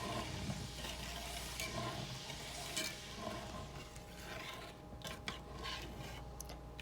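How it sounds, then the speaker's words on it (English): Beef broth is stirred into a skillet for brown gravy to go with hamburger steaks: a soft, continuous swishing and faint sizzle at low volume, with a few light scrapes toward the end. "So we add around 2 cups of our beef broth to our skillet and just"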